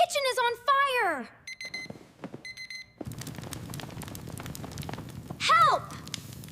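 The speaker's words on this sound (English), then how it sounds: "Oh no, the fire alarm!" A kitchen fire alarm in a cartoon, heard as repeated high electronic beeping bursts, with animated voices squealing and exclaiming around it and a rumbling, noisy stretch in the second half.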